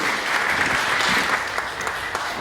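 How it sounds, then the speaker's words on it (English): Steady applause from an audience at a startup pitch competition in a conference room, a dense, even wash of clapping that holds at the same loudness for the whole stretch. "let's give her a round of applause for Ardan Pharma"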